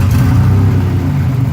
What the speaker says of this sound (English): Let's see if we can give it some gas. It's gonna sputter